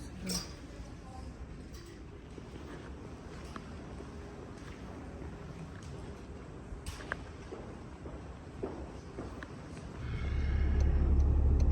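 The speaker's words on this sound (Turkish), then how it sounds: "şimdi trafikteyiz" City road traffic in Cologne heard from inside a bus: a steady low rumble of engines and tyres with occasional clinks and thumps, swelling into a louder, heavier roar near the end.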